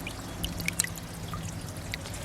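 Water chestnut plant roots are washed in water in an aquaponic IBC bed, with soft trickling and pouring plus a few small drips and splashes, close and fairly quiet.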